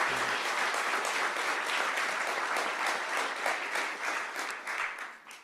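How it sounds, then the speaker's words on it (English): Audience applause at a defense research center announcement, a dense, even round of clapping from a large crowd that continues steadily and begins to taper off near the end. "let's give them a round of applause for their support as well"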